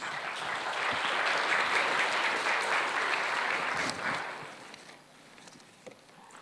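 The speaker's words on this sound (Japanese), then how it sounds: "それでは大坂先生を拍手でお迎えください" A lecture audience applauds to welcome the speaker, steady massed clapping for around four seconds that then thins out into scattered faint sounds.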